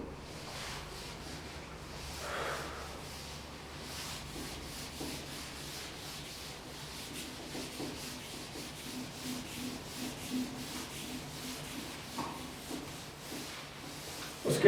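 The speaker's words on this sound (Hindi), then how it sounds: "अब मैं इसको रब कर रहा हूँ, साफ कर रहा हूँ" A board is rubbed clean of writing with a steady, soft scrubbing that runs on for about fifteen seconds, faint and continuous, with a few light knocks.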